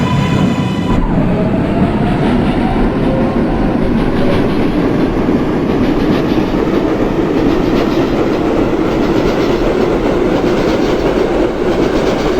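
A New York subway 7 local train bound for Queens rumbles along the rails, with a loud steady roar, rhythmic wheel clatter and a faint rising whine, heard close and alone for the whole stretch.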